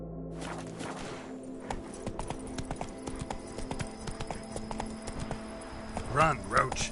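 Roach, a horse in a video game, clip-clops along at a steady gait, close and moderately quiet, with a short whinny near the end and a voice talking over the hoofbeats.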